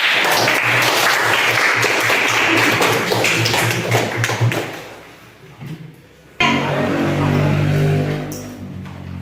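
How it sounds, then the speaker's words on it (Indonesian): A class applauds student groups after their presentation, with a long burst of loud, dense clapping from the room that briefly fades, then swells again and continues. "kita beri aplaus dulu buat"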